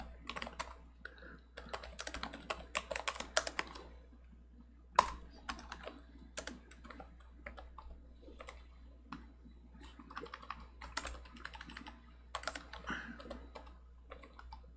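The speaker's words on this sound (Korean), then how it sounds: "네, 타이핑을 해볼게요." Quick bursts of typing on a computer keyboard, close-up key clicks coming in irregular runs with short pauses, and no talking.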